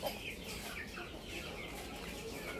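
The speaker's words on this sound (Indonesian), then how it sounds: "Ini ayam samo Eropa" European Shamo chickens clucking softly over a steady background hiss, with faint scattered calls throughout.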